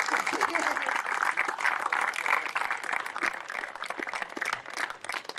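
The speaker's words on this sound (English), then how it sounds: "Give them a round of applause for their work so far." Audience claps for a police youth band at a Reclink football grand final event in Bendigo, a moderate, steady patter of hands with scattered individual claps and some background voices mixed in.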